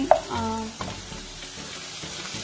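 Chopped onions fry in a pan for Bangladeshi aloo bharta, a steady close sizzle with a brief stir at the start, then continuous crackling hiss on its own.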